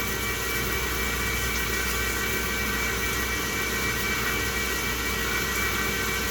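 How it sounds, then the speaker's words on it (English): A CNC machining centre cuts a BMW crown wheel with a 12mm carbide end mill. It makes a loud, steady, continuous roar with a faint whine that holds unchanged throughout, with no talking. "so I just blew the coolant away so you can see it start cutting. It's a 12mm carbide end mill."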